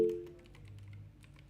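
Keys tapped on a computer keyboard to type a short search phrase, with quiet, close clicks that run in a loose, uneven rhythm. A brief tonal hum is present at the very start.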